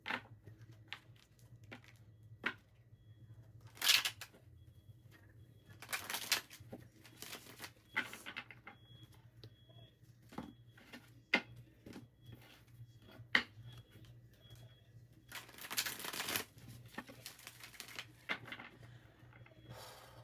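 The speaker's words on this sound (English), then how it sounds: "I'm being asked to shuffle." Tarot cards shuffled close to the microphone in a quiet room, sparse riffling bursts and soft taps separated by pauses.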